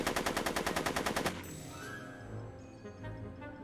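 Rapid automatic gunfire in the Back to the Future: The Game video game, a fast, loud, evenly spaced burst of shots lasting about a second, then dying away into a low rumbling background.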